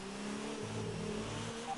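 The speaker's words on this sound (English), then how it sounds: "I sped into pit lane" A Ferrari Formula 1 car in the F1 2019 racing game rolls into the pit lane on a drying wet track, a steady, quiet engine drone with a pitch shift partway through.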